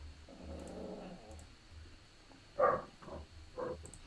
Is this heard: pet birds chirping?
no